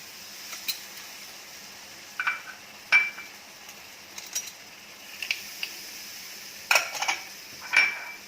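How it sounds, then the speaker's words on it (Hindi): A ladle stirs besan bhindi, okra cooked with gram flour, in a pan, giving scattered light metallic clinks and scrapes at an irregular, unhurried pace over a faint steady background, with no talking. "कड़छी लगातार आहिस्ता आहिस्ता चलानी है।"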